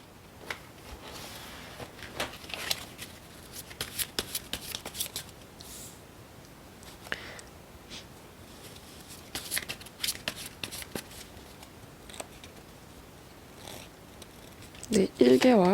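Tarot cards are shuffled close up in a quiet room as soft repeated riffles and slides in uneven bursts, ending in a louder flurry of card handling.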